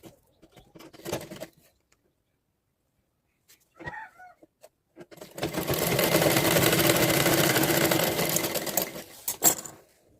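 Sewing machine stitching a katori blouse along marked lines, a sustained close mechanical whir running for several seconds after brief handling noises and a short pause, then stopping.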